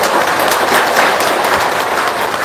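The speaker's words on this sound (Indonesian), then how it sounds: "Tepuk tangan dong buat anak-anak yatim sini." A room full of people breaks into a short burst of dense, continuous clapping for orphaned children, loud and close throughout.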